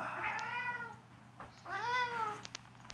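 An Applehead Siamese cat meows twice up close, two drawn-out, bending cries separated by a short pause, with a faint steady hum underneath and no one talking.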